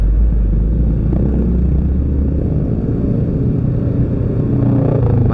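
Motorcycle rider stuck in a heavy traffic jam on the Cigombong–Cicurug road, with a steady, loud low engine rumble and surrounding traffic drone running continuously throughout.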